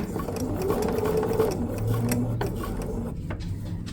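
A domestic sewing machine runs a continuous whirring stitch close by while stitching a fusible raw edge applique quilt, humming steadily with slight shifts in pitch and no talk.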